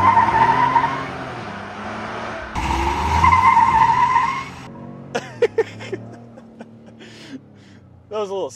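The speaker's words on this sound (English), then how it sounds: "That was a little skid." Car tires squealing during a burnout, a loud sustained screech over engine roar in two stretches, followed by quieter cabin sounds and brief voices as people talk.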